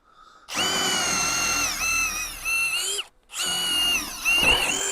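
A power drill fitted with a 1/4-inch coral diamond bit whines loudly at steady high speed, stops briefly for a moment, then starts up again and keeps running.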